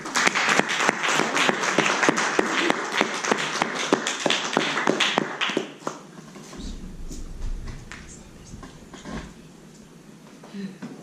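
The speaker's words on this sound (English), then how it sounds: "Give a round of applause for Nasir." A Toastmasters club audience applauds a speaker being introduced, with dense clapping and distinct sharp claps for several seconds that then thin out and fade, leaving quieter room noise and faint scattered sounds.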